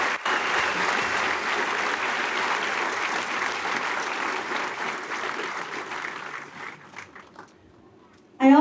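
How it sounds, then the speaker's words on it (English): Sustained crowd applause at an outdoor monarch butterfly release and remembrance event, thanking sponsors; broad steady clapping that gradually fades, with a brief louder sound at the very end. "Please give everyone a round of applause."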